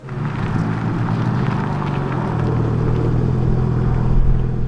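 A 2026 BMW M2 CS on the G87 platform driving on a track, its engine a steady loud rumbling drone that builds slightly toward the end, with no voices.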